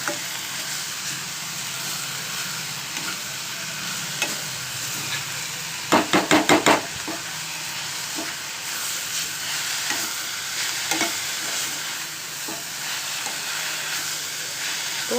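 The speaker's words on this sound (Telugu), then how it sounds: "ఒకసారి మూత తీసి కలుపుకుందామండి." Amaranth leaves (thotakura) for a Telugu-style fry are stirred in a pan, with a steady sizzle and hiss running throughout and a short burst of spoon scrapes against the pan midway, with no talking.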